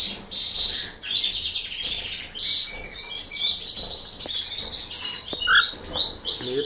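Canaries and cockatiels in an aviary chirp and tweet in a busy, overlapping chorus of bright close calls, with short trills and rustling between them.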